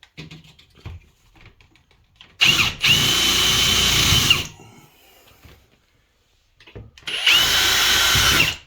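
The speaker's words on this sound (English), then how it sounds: "We're going to drill right through the shower at each location." A power drill with a 1/8 inch bit bores through a Maax shower wall during door installation, two loud, steady whirring bursts of about two seconds each, separated by quiet shuffling.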